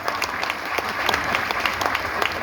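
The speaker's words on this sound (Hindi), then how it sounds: "ताली बजाना जरा ढंग से बजाओ।" Audience at a speech gathering clapping together: dense, steady applause from many hands filling the whole moment, fairly loud and close, with no voices over it.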